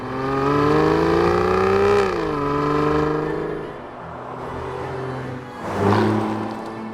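A V12 Aston Martin engine pulling while driving, a loud, smooth harmonic drone that climbs in pitch, drops back as it shifts, then swells again, heard from inside the cabin with no talking.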